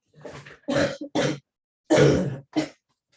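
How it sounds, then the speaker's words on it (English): Several harsh coughs and throat clearings come in quick bursts, close to the microphone, with short silences between them. "I've got to cough, excuse me."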